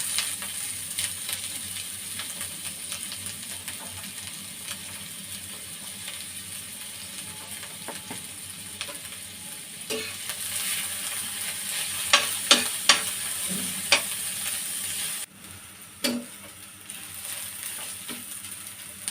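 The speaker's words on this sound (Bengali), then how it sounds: "এখন 1/2 কাপের মতো পেঁয়াজ এই তেলে ভেজে নিব।" Half a cup of onion frying in oil for a tomato bharta, a steady close sizzle throughout, with scattered utensil taps and scraping clicks growing sharper toward the end, no voices.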